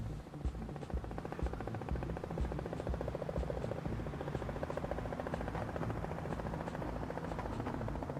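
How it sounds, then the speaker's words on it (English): Helicopter in the video game Perfect Tides, a rapid rhythmic rotor chop with engine drone, heard on its own, steady and fairly faint as it flies off. "Goodbye, helicopter."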